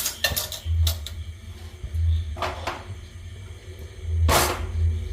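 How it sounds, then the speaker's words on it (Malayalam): A lid is set on a clay pot of fish curry in a home kitchen, heard as several close clanks and scrapes of pottery and utensils spaced out over a low background hum. "നമുക്ക് ഇതൊന്ന് മൂടി വയ്ക്കാം"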